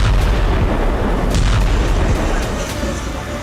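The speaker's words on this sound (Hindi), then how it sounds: "शहरों में कई धमाके देखे गए" Explosions in Luhansk during an attack: a loud, dense cluster of booms and artillery-like blasts that rumble heavily and overlap, with a voice faintly audible underneath.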